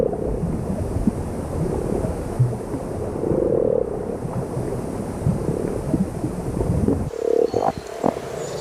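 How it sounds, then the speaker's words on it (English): Frogs calling at spawning time in still-cold water along dike banks, a dense chorus of croaks running steadily throughout, mixed with wind and a surf-like wash. "frogs gather to court and mate"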